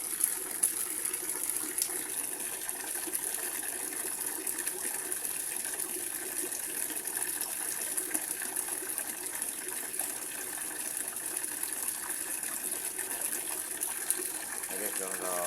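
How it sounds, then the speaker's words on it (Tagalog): A coin-operated water vending machine dispenses a steady stream of water, a constant gushing hiss with faint mechanical hum that runs evenly and unbroken for the whole stretch. "hindi pa nawawala yung tulo kasi hindi pa nauubos yung oras ng piso"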